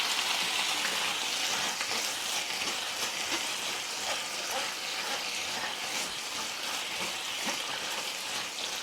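Swiss chard leaves fry in a pan and are stirred, giving a continuous close sizzle with small crackles and scraping movements and no talk.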